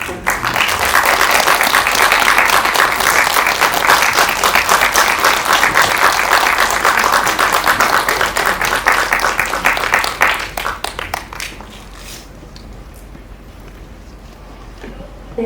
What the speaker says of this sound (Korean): 따뜻한 박수로 맞아주시기 바랍니다